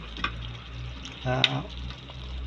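Tuna simmering in coconut milk for ginataan, a soft bubbling sizzle with a brief stirring clatter midway, fairly close but quiet, no voices.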